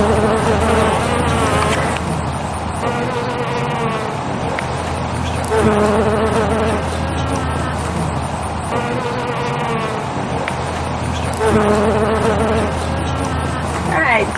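Bees buzzing around a flowering Caryoptera shrub in a home garden, a close, wavering drone that swells and fades as insects move between blossoms, over a low background hum of distant road traffic.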